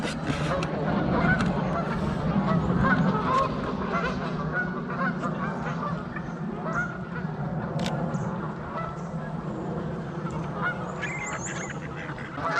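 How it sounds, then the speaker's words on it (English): A flock of geese honks continuously overhead, a dense chorus of overlapping calls over steady outdoor background noise. "How many geese up there?"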